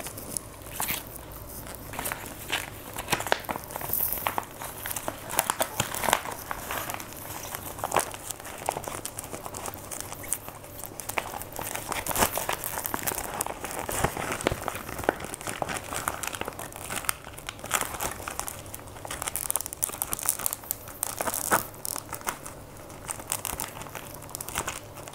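Plastic zip bag crinkling and crackling continuously as mashed banana is moved into a larger bag, close and busy handling noise with no talk.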